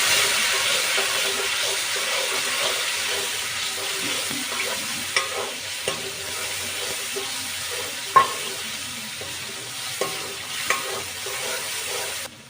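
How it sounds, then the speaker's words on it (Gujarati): A paste of yogurt, ginger-garlic and onion for egg curry sizzles steadily on low heat in a pan. A few sharp clinks of stirring are scattered through the soft, continuous hiss. "તો હવે આપણે નાખી દઈશું અને ઘડીક આપણે એને સડવા દઈશું ધીમા તાપે"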